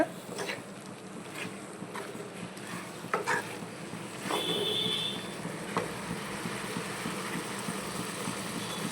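Chicken frying in masala in a pan, a quiet continuous sizzle with scattered scraping and clinking stir sounds from a spoon, close and low in level, with no speech.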